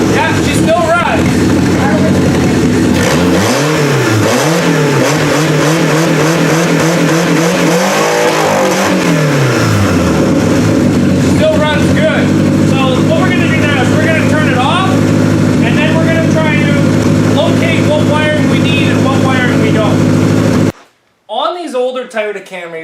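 A 1991-1996 Toyota Camry wagon engine with a distributor runs steadily and loud, revving up and down in sweeping pitch changes, then settles into a constant idle-like drone before cutting off near the end, with a voice briefly heard afterward.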